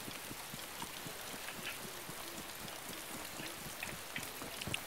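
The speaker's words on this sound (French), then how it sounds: "S'abriter de la pluie. La petite pluie." Light rain in the DayZ video game patters softly and steadily, a faint, even drizzle of small droplet ticks with no voices.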